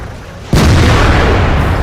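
A tank cannon fires in a tank video game: one sudden, loud, deep boom that hits and then stays as a heavy rumbling roar.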